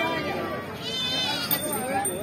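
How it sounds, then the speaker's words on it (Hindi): A goat bleats repeatedly among Rajasthani breed goats and kids at a busy Thursday livestock market in Bareilly, Uttar Pradesh, close by and under steady crowd chatter and someone talking. "ये देखिए फाटा बकरा"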